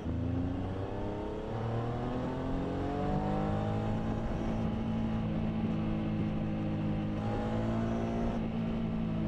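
A Triumph Tiger Sport 800 motorcycle is ridden on a bumpy road, its engine droning steadily and shifting pitch as it climbs and eases off, under constant wind rush.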